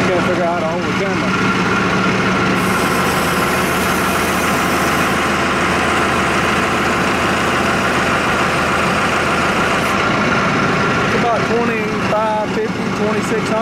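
A tractor engine idles with a loud, steady, low rumble from close by, and a voice is heard over the running engine.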